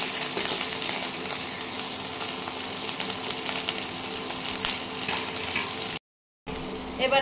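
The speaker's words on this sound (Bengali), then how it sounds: "এটাকে একটু ভালোভাবে ভেজে নেবেন।" Vegetables with green chillies fry in a pan for veg Maggi, a dense, continuous crackling sizzle close by with faint stirring, cut off by a brief dropout near the end.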